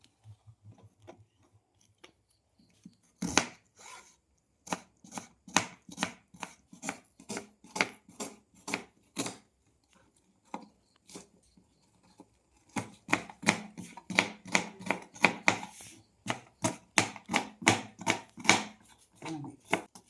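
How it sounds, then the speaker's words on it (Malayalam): Knife chopping onion into small pieces on a board: a long run of quick, close, rhythmic blade taps in bursts with brief pauses, mostly alone with only a little faint talk. "സബോള കുഞ്ഞാക്കി അരിഞ്ഞതിന്റെ ശേഷമായിട്ട്"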